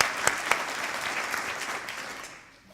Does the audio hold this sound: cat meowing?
no